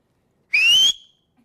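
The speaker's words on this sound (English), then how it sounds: "You can just blow into that whistle," A personal safety whistle gives one short, shrill blast of about half a second, loud and close, rising slightly in pitch and then cutting off into silence.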